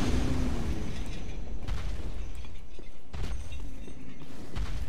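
A fire-shooting enemy in Dark Souls 3 at Anor Londo: a roaring, crackling burst of flame with low booms and a few sharp pops over a rumbling backdrop.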